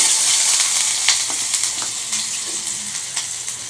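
Chilies fry in hot oil for a dal tempering, a loud, close, continuous sizzle and crackle with occasional sharper pops and stirring scrapes throughout.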